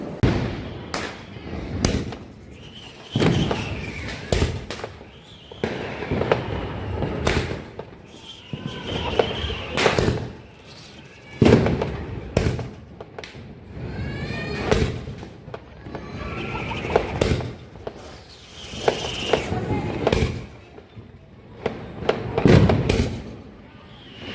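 Diwali firecrackers burst at a family home in a rapid, irregular string of loud cracks and thumps, some close and some farther off, with voices talking over them.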